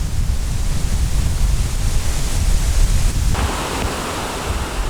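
Strong wind sweeps through a large bamboo forest, a loud, continuous roaring rush with a deep rumble, swelling and easing slightly, with no voices.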